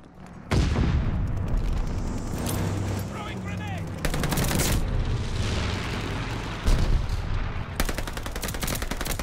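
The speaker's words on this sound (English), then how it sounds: "Throwing grenade!" A grenade blows up among heavy gunfire in Call of Duty Vanguard. Loud bursts of rifle and machine-gun fire roll on throughout, broken by booming blasts.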